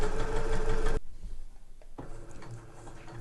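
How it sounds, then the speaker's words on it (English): A sewing machine back-stitches a fabric cushion cover with a steady, close mechanical whir. It runs for about a second, pauses briefly with only faint room noise, then starts up again. "I'm going to do a little back stitch to begin with, and then I'm going to sew to this first chalk mark here."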